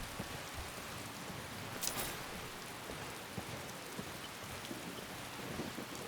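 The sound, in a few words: thunder from video game Skyrim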